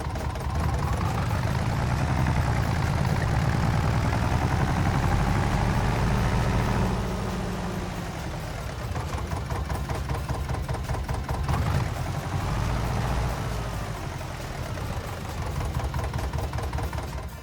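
A tractor in Farming Simulator 25 strains under a hitched plough, its engine a steady, loud droning rumble that eases slightly partway through and then holds on, with no talking.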